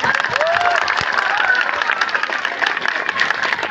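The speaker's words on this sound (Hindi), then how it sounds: "कलाकारों के लिए थोड़ी तालियां हो जाए।" An audience at a stage performance of the Hindi play Andher Nagari Chaupat Raja claps for the actors after a scene, producing dense, sustained applause from a crowd throughout.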